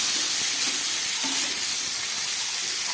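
Half-boiled chickpeas hit hot oil in a frying pan, giving a steady, close sizzle and hiss that runs evenly for the whole stretch with no voices.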